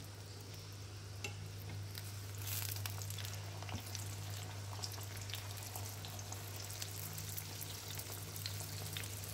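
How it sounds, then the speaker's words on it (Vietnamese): Marinated tofu skin frying in hot oil in a pan, a steady soft sizzle and crackle with occasional pops and stirring sounds throughout, fairly quiet and with no talking. "rồi để phần tàu hủ kỳ miếng vô mình sẽ chiên, chiên cho vàng đều hai mặt"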